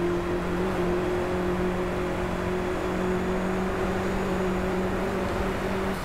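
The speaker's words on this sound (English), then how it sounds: "So, while I'm driving this Beetle" A Volkswagen Beetle engine in the racing game Driveclub holds a steady, droning tone at near-constant revs, loud and unbroken throughout with no voices.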